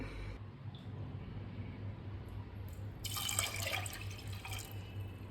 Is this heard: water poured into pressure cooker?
yes